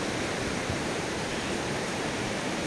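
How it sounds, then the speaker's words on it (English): Steady, dense roar of waterfalls at a nature reserve near the ancient site of Dan, a loud broadband rush filling the whole stretch without pause. "aware of this roar of waterfalls that we have here"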